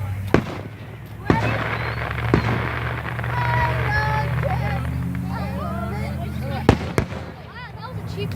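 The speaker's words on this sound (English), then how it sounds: "Jake, are you watching fireworks?" Fireworks pop in sharp, spaced bursts, a handful of loud cracks spread across the stretch, with steady background noise and voices babbling in between.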